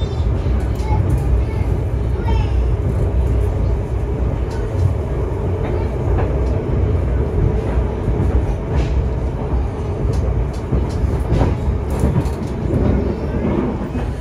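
Inside the moving Purwojaya passenger train in Indonesia, a heavy, steady low rumble of the carriage with rattles and clacks of the wheels and occasional muffled voices under the din.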